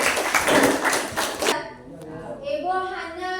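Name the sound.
class applauding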